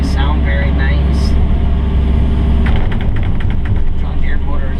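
A diesel engine on an excavator digging in frozen mud runs loud and steady, a harsh continuous rumble with clattering mechanical knocks midway and no talk.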